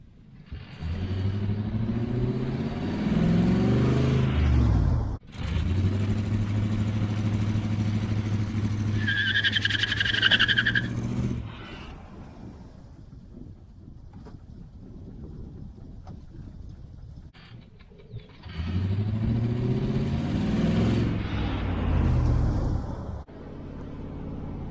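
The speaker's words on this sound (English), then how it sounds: "I tried to do some burnouts, but the wheel hop is way too bad on it." A 1968 Chevelle Nomad attempting burnouts with heavy wheel hop: loud, throbbing engine revs in several long bursts with juddering rumble, quieter idling and wind noise between them, and a brief high tone partway through.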